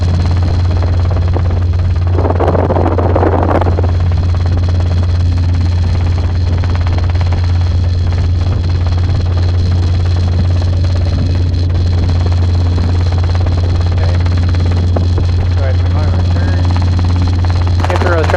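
Robinson R22 helicopter in flight during a training lesson on approach, a steady low rotor and engine drone running throughout under cockpit radio chatter and instructor talk.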